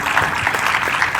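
Audience at a stage event applauding, a dense continuous patter of clapping heard close and even for a brief moment.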